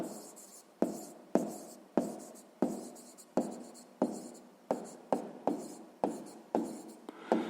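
Pen writing by hand in a notebook during a sixth-grade maths exercise, a close run of quick scratching strokes, each starting sharply and trailing off, repeated about a dozen times with no talk.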